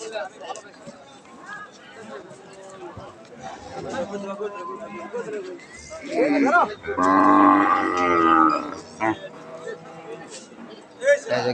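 A cow moos loudly and long at a busy rural cattle market, with people talking and a crowd murmuring around it.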